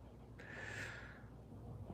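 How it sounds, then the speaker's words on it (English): A single short nasal sniff of a blunt, close and quiet, lasting under a second against a faint background hiss. "Why are you sniffing Dad's blunt?"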